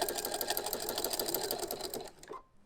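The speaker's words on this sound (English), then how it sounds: "all I'm going to do is sew the binding on through all of the layers up to that point." A sewing machine stitches quilt binding through all the layers in a fast, steady, close whir, then slows and stops near the end; no one talks.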